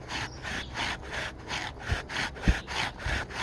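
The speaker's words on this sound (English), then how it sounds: "Use the full length of your bow." Wooden bow drill spindle rubbing rapidly in a wooden hearth board, a steady back-and-forth rasping friction with regular strokes about every third of a second, close and moderately loud, with a couple of sharp knocks.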